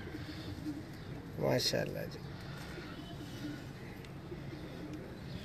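Pigeons brought from Dubai coo in a short burst. The cooing is faint against steady background noise, and a person speaks briefly.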